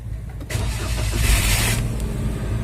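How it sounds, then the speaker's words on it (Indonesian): A Daihatsu Sigra 1.0 M manual car started with the ignition key while the clutch is held down: a brief starter crank, then the engine catches and settles into a loud, steady close idle. "hidupkan mesin dengan diputar kunci kontaknya ke posisi starter"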